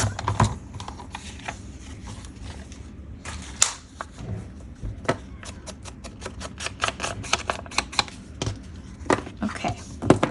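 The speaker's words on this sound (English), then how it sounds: "so I'm gonna cut off this tab" A paper envelope tab is snipped off during papercraft work. Crisp, close clicks and snips sound in a steady irregular series over a soft background, with no voices.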